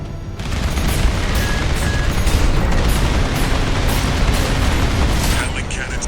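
Explosions from the Armored Core 6 video game roar as Gatling cannons are destroyed, a loud sustained rumble layered with repeated bursts and mechanical clatter that rolls on for several seconds.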